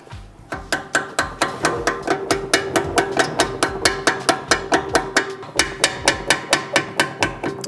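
Steady metallic hammer blows striking a chisel during suspension work on a GR Supra, about two sharp impacts per second, close and loud, continuing alone for several seconds.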